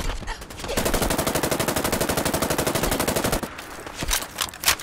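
Rapid automatic gunfire from an unsilenced SIG MCX rifle in Fallout 4, a sustained burst of evenly spaced shots lasting a few seconds, loud and close, followed by scattered single shots.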